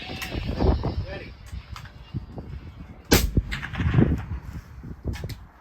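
A Steyr scout rifle fires at a steel plate 1,040 yards away. Sharp reports are followed by faint distant impacts, with outdoor talk between and over the shots.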